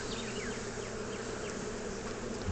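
Bees swarming around a top bar hive make a steady, dense buzz close by, with individual insects whining past the microphone throughout; no voices.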